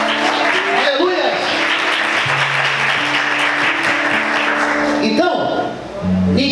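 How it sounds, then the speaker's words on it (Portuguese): Church congregation applauding during an evening worship service, steady broadband clapping with voices and tonal cheering mixed in, loud and sustained before dipping briefly near the end. "Você pode aplaudir o Senhor essa noite"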